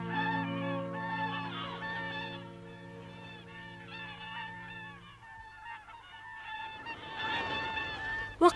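Loud honking calls of wild swans, drawn-out and overlapping like geese, followed by a flurry of squawks and a sharp noise at the end.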